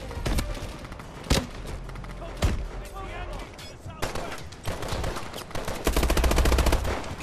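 Heavy gunfire in Call of Duty Advanced Warfare, sharp loud bursts and single cracks fired in clusters alongside dense automatic shooting and thuds, with a voice speaking briefly among them.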